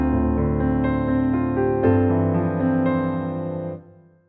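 A piano plays two bars of a song, with sustained chords under a flowing octave arpeggio melody. It is clear and close, and the notes fade out at the end with no voice.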